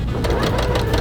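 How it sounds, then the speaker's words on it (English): Sewing machine stitching a quarter-inch quilt seam, a close, fast rhythmic whirring with rapid needle pulses in a short steady burst. "And then sew that 1/4 inch seam."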